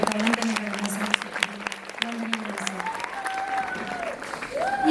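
An audience applauding at a college album song release event, clapping rising and falling over a few seconds with a faint voice and some tonal sound beneath.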